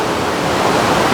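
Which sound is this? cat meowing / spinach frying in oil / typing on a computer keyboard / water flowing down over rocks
water flowing down over rocks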